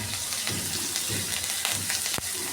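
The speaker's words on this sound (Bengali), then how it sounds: "এরকম সময় দিয়ে দেবো কারি পাতা" Curry leaves sizzle and crackle as they drop into vegetables frying in oil, with red chilli powder, for a South Indian style sambar dal; steady close hiss with brief louder pops, no talking.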